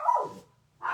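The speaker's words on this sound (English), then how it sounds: "excuse the puppy dogs" Puppies give a couple of short, close yips and barks indoors during a chair painting session, separated by a brief silence.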